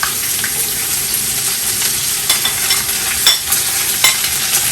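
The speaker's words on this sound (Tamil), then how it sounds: "நான் வெட்டி வச்சுருக்க வெங்காயத்தை இதில் சேர்க்க போகிறேன்" Chopped onions fry in hot oil with cardamom for beef biryani, a loud, steady close sizzle with occasional stirring scrapes.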